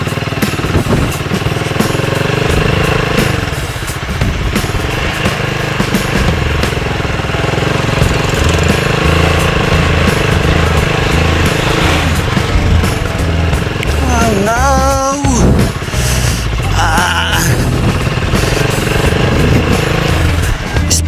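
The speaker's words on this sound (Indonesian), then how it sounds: "Naging 4x4 itong motor natin." A motorcycle engine runs steadily and loud throughout while the bike rides a muddy dirt road, the motor pitch rising and falling with throttle; a voice speaks briefly partway through.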